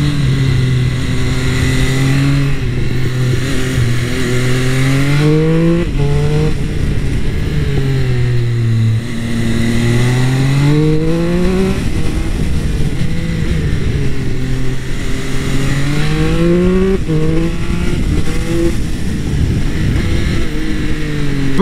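A stock-exhaust Triumph Speed Triple 1200 RS motorcycle revs loudly and close up, its engine note climbing and falling in repeated throttle blips over a steady growling idle, with no voices.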